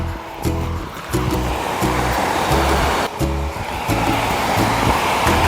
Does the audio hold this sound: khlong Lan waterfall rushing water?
yes